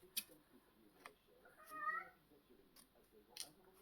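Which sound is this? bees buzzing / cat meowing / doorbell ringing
cat meowing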